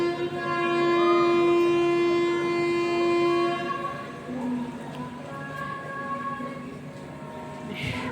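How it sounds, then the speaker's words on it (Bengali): A train rumbles while stopped at a platform at Kharagpur station, with a long steady horn-like tone early on, a low mechanical drone throughout, and a brief hiss near the end. "ট্রেন আমাদের ট্রেন এসে দাঁড়িয়েছে খড়গপুর আর প্ল্যাটফর্ম"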